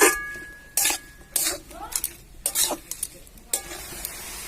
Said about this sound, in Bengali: এরপর এটা মশলাটা ভালোভাবে কষে নেব।